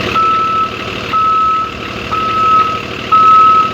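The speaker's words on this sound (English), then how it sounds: "I'm kind of not used to that reverse beeper making different sounds." A bus reverse beeper in the Rigs of Rods driving game sounds four evenly spaced electronic beeps, loud and clear over a low engine hum.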